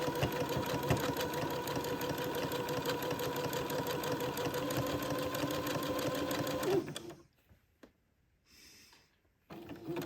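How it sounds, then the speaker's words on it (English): A sewing machine zigzag-stitches along the bottom edge of a baby day gown with entredeux trim, running in a fast, steady, rhythmic clatter for about seven seconds, then stopping, followed by quiet handling noises. "I'm going to zigzag along this bottom edge"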